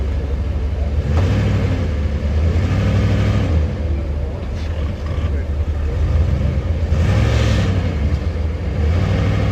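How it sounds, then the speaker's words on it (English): A Dodge van's engine revs in rising and falling surges, with a rough low rumble as its tires slip for traction while it is towed, and people talk over the engine noise. "Traction tire slipping a little bit."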